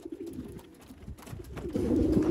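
Pigeons coo steadily inside a breeding loft, a low rounded warble from several birds that grows fuller and louder toward the end, with occasional shuffling and wing movement in the background.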